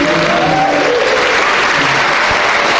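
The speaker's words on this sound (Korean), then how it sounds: "다시 한번 뜨거운 박수 부탁드립니다" An audience at a talk show gives steady, dense applause that fills the whole stretch, loud and close.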